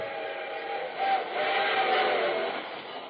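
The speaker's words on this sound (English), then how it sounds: "The train whistle tooted," A steady train whistle sounds continuously, swelling slightly in the middle, over a constant rumble of rail travel.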